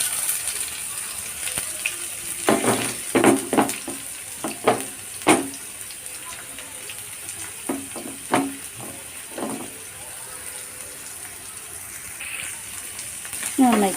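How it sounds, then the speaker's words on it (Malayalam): Half an onion sizzles in a pan with a steady hiss, while a spatula scrapes and stirs in bursts of clatter. The sound is close, and faint voice-like sounds appear at times. "ഇനി ഇതിലേക്ക് ഞാൻ പകുതി സവാള എടുത്തിട്ടുള്ളത് അതിട്ട് കൊടുക്കാം."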